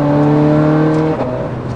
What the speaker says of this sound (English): Feel this gear change.